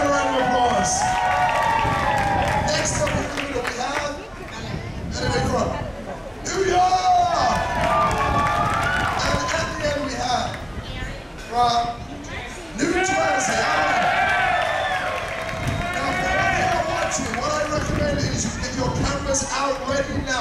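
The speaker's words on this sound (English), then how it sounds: "And Karen, round of applause." A crowd at a hairy chest contest cheers and claps, with loud, sustained whoops, shouts and applause that surge and dip over twenty seconds, mixed with babble of voices.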